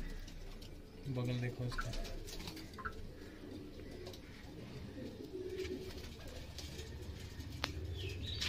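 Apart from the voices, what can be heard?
pigeons in breeding setup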